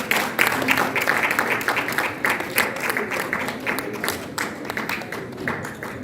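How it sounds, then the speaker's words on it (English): Audience at an international paper, publishing and printing expo clapping after a talk, dense and fairly loud applause with distinct individual claps running throughout, gradually thinning toward the end. "I will give you another resounding round of applause, please."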